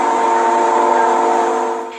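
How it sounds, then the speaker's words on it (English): Locomotive horn from a played recording, blaring loud and steady as one sustained chord that tapers off at the end, with no talking. "a locomotive horn goes off right before a long boom"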